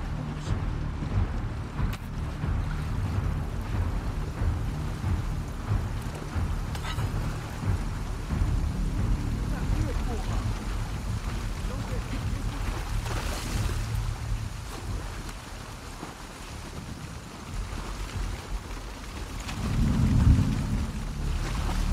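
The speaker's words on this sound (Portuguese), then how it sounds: "deu o efeito de trovão bem na hora que eu dei o tiro" Steady rain patters under low rumbling thunder in The Last of Us Part II, with a deeper, louder thunder roll swelling near the end.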